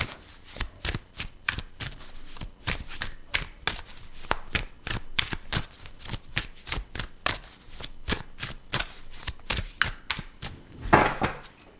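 Tarot cards are shuffled over and over, a fast, even run of crisp riffling snaps up close, repeating steadily for about twelve seconds with no talk.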